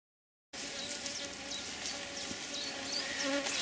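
Honey bees buzz in a dense, continuous drone during a beehive inspection, starting after a brief silence and holding steady and close with individual bees whining past.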